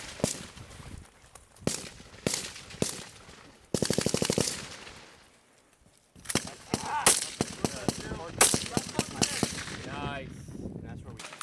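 Live fire from Tavor TAR-21 bullpup assault rifles during a Royal Thai Army exercise: loud single shots and rapid bursts, some distant and some close, mixed with shouted commands and movement noise.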